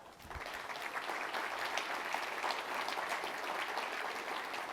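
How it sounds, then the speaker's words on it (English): A conference audience claps steadily and fairly loudly for several seconds at a keynote talk, a dense continuous wash of applause with no speech. "Give them a clap."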